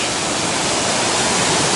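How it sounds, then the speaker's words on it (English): Water from the outlet of Bear Lake rushes as a steady, loud broadband roar, constant from start to finish with no voices. "And this is the outlet to Bear Lake."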